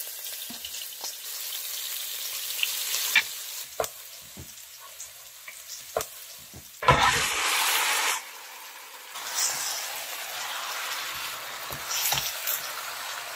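Hot fat sizzles steadily as minced garlic and ginger fry for chicken hotpot with red fermented tofu, with sparse clicks and taps of stirring and a louder burst of sizzling partway through.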